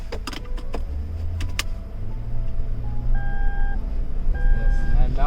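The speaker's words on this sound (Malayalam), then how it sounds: "എല്ലാ വണ്ടിയിലും പറയാം സീറ്റ് ബെൽറ്റിൻ്റെ വാണിങ്" Seat belt warning chime inside a Toyota Land Cruiser V8 on a short test drive, a series of clear repeated electronic tones that fall partway through, over a low cabin rumble with people talking.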